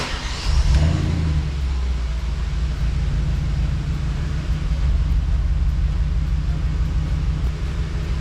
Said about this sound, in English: I'm going to start the engine because it's being weird